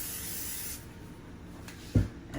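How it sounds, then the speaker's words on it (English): Cooking spray hisses steadily from a can onto a preheating pan on the stove for under a second, then stops, followed by a low room hum and a short knock. "We're gonna go ahead and spray it."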